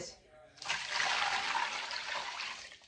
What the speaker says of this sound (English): I just put that chicken in there, and I'm going to fill it up with some water.